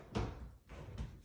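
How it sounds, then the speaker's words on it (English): A sliding pocket door to a toilet area in an empty house rolls open in a few quick scraping strokes, close by and fairly quiet, with no talking. "It's also pocket door on the toilet area."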